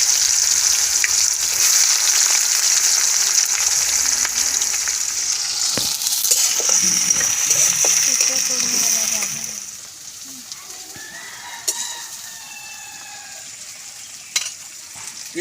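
Onions sizzle in hot oil with whole spices for an Odia tribal-style chicken curry, a loud continuous frying hiss with scraping stirs that drops off partway, followed by quieter clinks and someone speaking.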